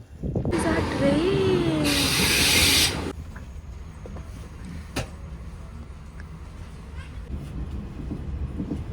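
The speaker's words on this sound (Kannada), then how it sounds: "ಟ್ರೈನ್" A train at a railway station on a solo trip gives a loud hissing rush for a few seconds, then settles into a steady lower rumble with occasional clanks.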